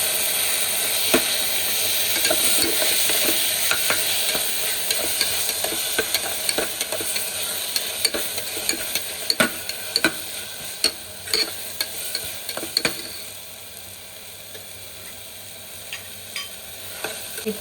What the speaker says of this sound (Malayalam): ഇത് ഉള്ളിന് നന്നായിട്ട് വഴറ്റിയിട്ടുണ്ട്